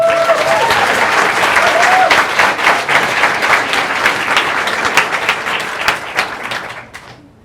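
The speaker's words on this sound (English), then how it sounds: "Big round of applause." A big round of applause fills a school district board of trustees meeting, loud and dense across the room with steady clapping that tapers off near the end.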